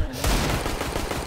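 Rapid burst of gunfire from the video game CS:GO, dense overlapping shots with a sharp onset and steady loud rattle throughout, close and continuous.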